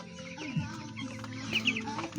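Broiler chickens clucking softly in a flock, with scattered short calls and a couple of brighter chirps, moderately close and continuous.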